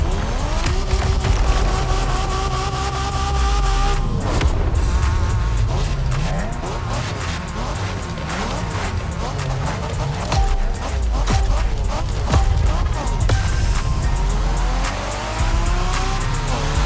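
Racing car in The Crew Motorfest game, with a revving engine climbing through gears and tires squealing and skidding through turns. The sound stays loud and close throughout, with shifts and pitch swoops across the run.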